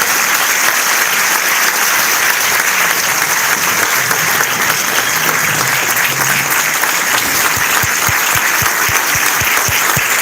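Sustained audience applause fills a gala hall for an award winner receiving a Make a Difference Award at a cancer charity event, dense steady clapping throughout with a few louder individual claps near the end.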